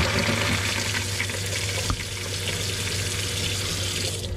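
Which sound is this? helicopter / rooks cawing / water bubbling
water bubbling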